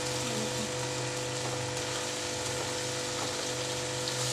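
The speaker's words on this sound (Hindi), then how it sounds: "सबसे पहले मैं डालूंगी लहसुन अदरक का पेस्ट। इसको 2 से 3 मिनट भूनने के बाद" Garlic ginger paste frying in a pan for chicken biryani, giving a steady, even sizzle and crackle that continues without pause at close range.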